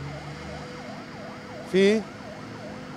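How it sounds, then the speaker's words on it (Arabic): Fire engine sirens at a burning power station in Qamishli, a steady wailing siren cycling over and over at moderate distance, with a brief loud voice cutting in near the middle. "كما ترون تحاول سيارات الإطفاء إخماد النيران"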